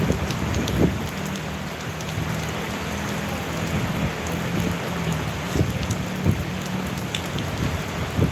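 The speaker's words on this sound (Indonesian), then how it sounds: "Di Papua sekarang lagi hujan teman-teman." Steady rain pours down on an afternoon in Papua, a dense, even hiss of drops on surfaces with scattered louder taps and a faint low rumble underneath, continuous and close.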